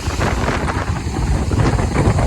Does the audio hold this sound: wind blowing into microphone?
yes